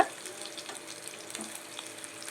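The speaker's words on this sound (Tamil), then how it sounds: "இது பொரிஞ்ச உடனே நம்ம ஒரு பெரிய வெங்காயம் ரஃப்பாக கட் பண்ணது போட்டுக்கோங்க" Roughly chopped onion frying in hot oil with mustard seeds and curry leaves for a tomato kurma, a steady close sizzle and crackle with no talking.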